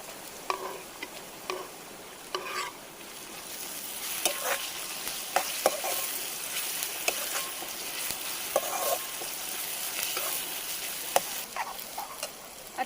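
Onion and tomato frying in a pan for a crab curry, a steady broadband sizzle with scattered scrapes and clicks of stirring throughout, moderately close and without talk.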